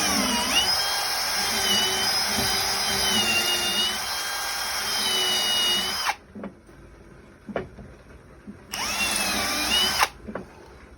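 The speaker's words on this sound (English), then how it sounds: "drilling our pilot hole to see how flat and square we can get" A power drill boring a pilot hole, with a loud steady high whine for about six seconds, then a few clicks and knocks, and a second shorter burst of drilling near the end.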